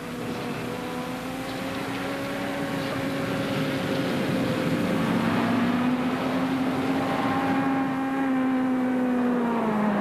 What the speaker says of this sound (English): Hey, get that car out of the way!